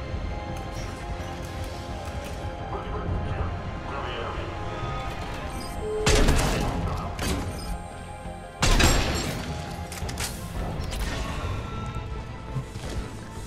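Gunfire in the video game Mass Effect 3, with two loud sharp bursts standing out above a dense, continuous bed of game noise and scattered impacts.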